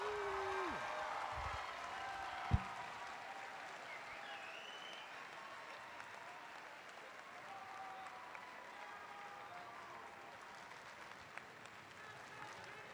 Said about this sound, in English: How about a big hand for all of our robot teams?